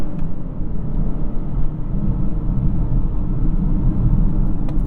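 A 2021 BMW X5 45e plug-in hybrid in sport mode, held in second gear under manual shifting, giving a steady low engine and road rumble from inside the cabin with no talk.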